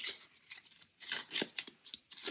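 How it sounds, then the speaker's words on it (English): Cards from the event deck of the Robinson Crusoe board game are shuffled close by in a series of quick, crisp riffling bursts with short pauses between them. "Let me just shuffle"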